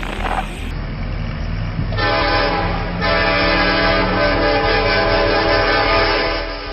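A passing train at a level crossing with a loud, sustained horn blast over heavy rumbling and clattering of rail cars, close and continuous.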